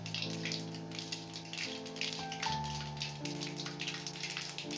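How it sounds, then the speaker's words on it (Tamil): Mustard seeds spluttering in hot oil while a samosa filling is tempered: a steady, fine crackling patter like light rain, soft and continuous, over a faint background hum. "கடுகு நல்லா பொரிஞ்சு வரட்டும்."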